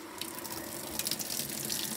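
Cold tap water pours steadily into a washing machine running a fill cycle, a constant hissing rush and splash with no pauses and no voices.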